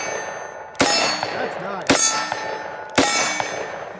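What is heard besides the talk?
44 Special revolver rounds hitting steel target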